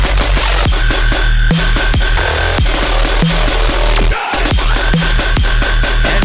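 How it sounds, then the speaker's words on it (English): An extremely heavy dubstep track in production plays loud and dense, with pounding low-end hits, sharp rhythmic transients and a constant wall of distorted bass and synth filling the whole range, and no voices. "So currently I'm working on this extremely heavy dubstep ID"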